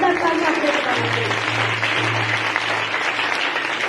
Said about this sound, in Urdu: پھر بجا دے زوردار تالیاں